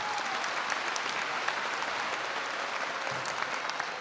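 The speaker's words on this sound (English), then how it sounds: "Round of applause for everybody" A crowd at a college commencement applauds steadily, many hands clapping together in a dense, even wash of sound that holds at the same level throughout.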